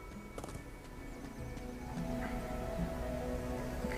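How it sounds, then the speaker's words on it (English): A horse in the video game Rangers of Oblivion, a tamed war horse, neighs and snorts over a steady game ambience, with faint hoof movement; no talking. "We got a horse."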